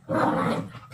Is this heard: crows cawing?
no